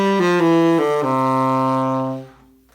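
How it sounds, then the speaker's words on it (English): Swung eighth notes in a triplet feel ring out on a pitched instrument, long-short pairs stepping through a few notes before one held tone decays, close and clear with no talk. "when I play two eighth notes, the first eighth note is longer and the second eighth note is shorter"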